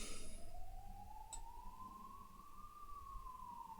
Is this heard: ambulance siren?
yes